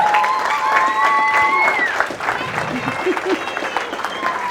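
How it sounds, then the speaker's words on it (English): Clapping from the audience at a talk rises under voices and whistle-like tones, thinning after the first couple of seconds into scattered claps mixed with crowd murmur. "Please give her a round of applause."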